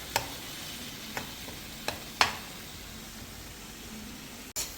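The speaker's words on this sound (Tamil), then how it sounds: "இப்போ தக்காளியவும் வெங்காயத்தையும் சேர்த்து நல்லா வதக்கிக்கணும்." Onions and tomatoes sauté in oil in a pan for mutton chukka, a soft continuous sizzle with a few sharp spoon clicks against the pan spaced out through the clip, no talking.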